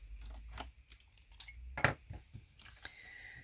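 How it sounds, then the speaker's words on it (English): Scissors snip the overhanging paper tips off a handmade card, giving a quick series of crisp, close, quiet cuts with small clicks between them. "now you can just take your scissors"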